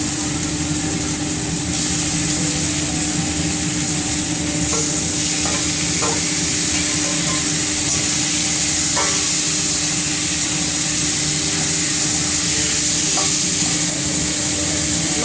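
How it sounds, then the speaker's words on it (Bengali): Minced meat fries with onion, ginger paste and garlic paste in a hot pan, a dense continuous sizzle with occasional scrapes and clinks of stirring, close and without talk. "এবার মাংসটা একটু ভাজা ভাজা হতে থাক"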